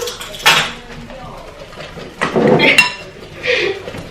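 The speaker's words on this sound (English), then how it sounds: "I just need to mix it and watch the lumps go." A spoon stirs cacao and banana pancake batter in a bowl, giving a few scattered clinks and scrapes against the bowl amid low kitchen background noise.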